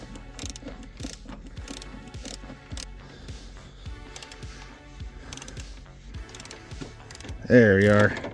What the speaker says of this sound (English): 13mm socket. We're just going to loosen that belt tension.